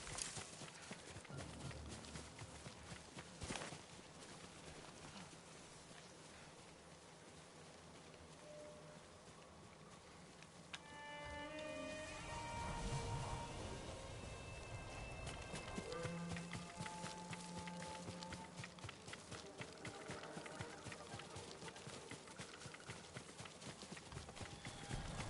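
Horses gallop in the video game Ghost of Tsushima, a rhythmic clip-clop of hooves drawing closer through tall grass, fairly faint beneath a busy game soundscape with a few sharp hits and tonal effects.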